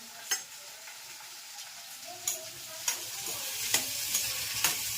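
Spices temper in hot oil for mung beans and tindora, a soft continuous sizzle punctuated by about six sharp stirring clicks against the pan at irregular intervals, with no talking.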